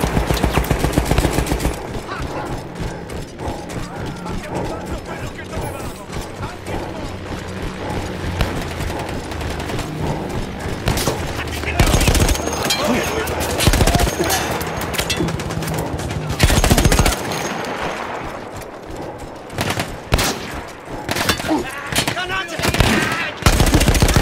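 Machine gun fire in Battlefield 1, a mounted gun taken over from Austro-Hungarian troops, hammering out loud sustained bursts broken by short pauses and sharp single shots, with no talk over it.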